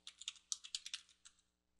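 A password is typed on a computer keyboard in a quick run of about ten close, crisp keystrokes that taper off into quiet.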